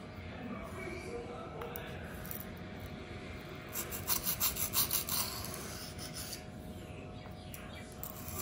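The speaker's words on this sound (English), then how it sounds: "I will switch side and kill the burr before I move up to another stone" A Twosun TS265 knife is sharpened on a Venev stone, giving soft, close scraping rubs with a quick run of rhythmic strokes near the middle. Someone speaks faintly underneath.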